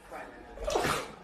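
A dog sneezes once, a short burst near the middle of a brief indoor moment on a new carpet, with a person's voice around it.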